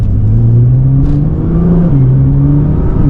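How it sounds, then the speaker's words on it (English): Combustion-engine car driving and accelerating, a loud, close engine drone from inside the cabin whose pitch rises steadily, dips at a gear change, then climbs again. "Feels weird driving a combustion car after so many months of a Tesla."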